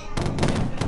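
Video game gunfire rings out as a burst of several sharp, loud shots in quick succession, set against background game audio.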